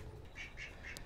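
A backyard duck gives a few short, faint quacks in a quick regular series over a low outdoor rumble.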